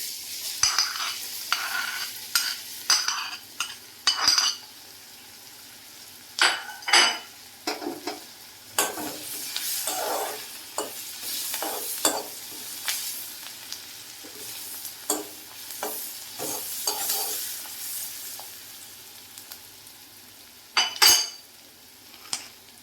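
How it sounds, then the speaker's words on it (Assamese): Maggi noodles frying and being stirred in a pan, with repeated scraping and clinking of a spatula against metal over a light sizzle, close and irregular, with no talking. "এয়া আমাৰ বাইদেৱে মেগী বনাই আছে এতিয়া"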